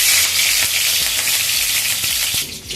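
Curry leaves sizzling in hot oil with mustard seeds, a loud, close, continuous hiss of frying with faint crackles and light pops scattered through it.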